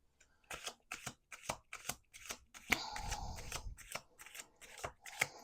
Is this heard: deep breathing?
no